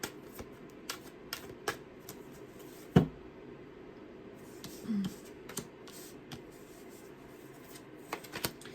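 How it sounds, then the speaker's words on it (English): Tarot cards shuffled close up by hand during a reading, soft papery riffles and taps repeating through the stretch with a sharper snap near the middle, no talking. "I'm going to shuffle."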